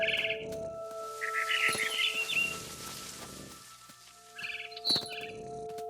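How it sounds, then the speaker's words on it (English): A barn swallow in What Remains of Edith Finch gives bright, high chirps in short bursts near the start, middle and end, over a quiet ambient bed with soft thuds and a faint steady hum. "Then I heard chirping outside my window. It was a barn swallow going back to her nest."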